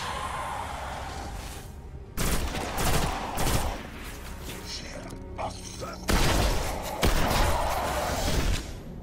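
Gunfire bursts from weapons in the Destiny video game, with two loud, dense volleys separated by quieter stretches of game ambience and smaller impacts, plus a few thuds.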